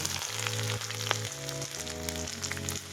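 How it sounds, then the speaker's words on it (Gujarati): Garlic and ginger frying in hot oil in a home kitchen for a Gujarati tuvar dal curry, giving a steady, close sizzle throughout with faint tonal background hum and no talk. "હવે આપણે નાખીશું તેલમાં હવે લસણ નાખીશું આદુ"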